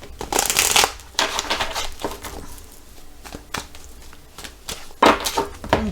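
A deck of tarot cards is cut and shuffled with crisp, close-up riffling and flicking bursts, a few soft taps and pauses between them.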